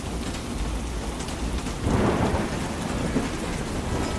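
Steady heavy rain roars throughout, with a low rumble of thunder swelling midway and fading back into the downpour.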